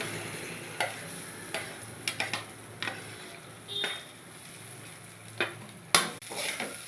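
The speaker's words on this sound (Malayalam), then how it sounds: "ചോറും ചേർത്ത് ഇളക്കി വാങ്ങണം" Rice being stirred into a pan with pepper powder and salt for cumin rice, a few scattered scraping clicks and taps of a spoon against the pan over a faint low hiss, with no talking.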